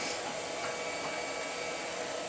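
Roomba robot vacuum cleaner running indoors, a steady whirring motor hum with broad hiss, close and constant for a couple of seconds with no talking.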